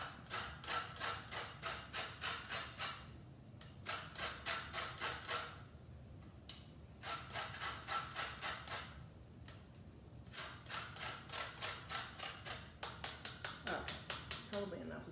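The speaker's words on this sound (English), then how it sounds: "after we get all of our zest off the outside of our lime" A lime rubbed against a zester or grater in quick rhythmic rasping bursts, close and fairly loud, in several runs separated by short pauses, with faint voice underneath.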